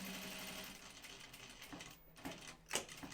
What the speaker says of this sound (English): I'm gonna sew it from the right side so I can see where my stitch line was